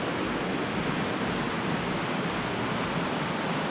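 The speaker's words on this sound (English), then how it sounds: "You can still hear the water behind me" Continuous broadband roar of a waterfall, steady and dense with no breaks, like heavy water pouring nearby.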